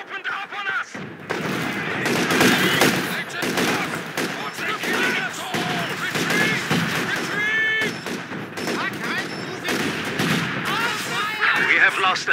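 Dense battlefield combat from the WWII strategy game Company of Heroes 2 in a 4v4 online match: continuous rifle and machine-gun fire with heavy artillery booms throughout, while unit voices call out over the din.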